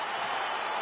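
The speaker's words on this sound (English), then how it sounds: "an appreciative capacity crowd on its feet as this next round gets underway" A capacity arena crowd applauds and roars between rounds of an EA UFC fight, a dense steady wash of clapping and cheering with no break.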